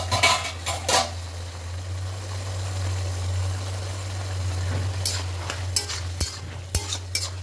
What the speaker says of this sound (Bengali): এবার একটু আলুগুলোকে ঘেঁটে দেবো।